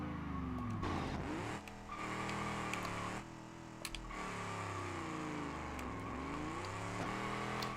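Car engine in the BeamNG driving game, revving up and down in repeated sweeps, with brief tyre squeals, loud and continuous.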